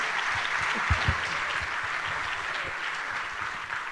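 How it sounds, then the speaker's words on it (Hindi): Audience applause fills a church conference hall in Mumbai, a steady dense wash of many clapping hands with a few sharper claps standing out, sustained throughout without speech. "Clap hands and praise the Lord."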